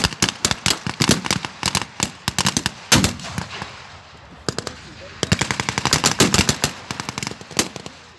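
Rapid bursts of machine gun fire from the roof-mounted guns of an American half-track in a World War II battle game, loud and close, stuttering in long rattling volleys with brief pauses between them.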